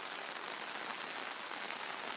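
Steady rain falls on a freshly seeded pond berm with new grass, a dense, even hiss with no pauses or voices throughout.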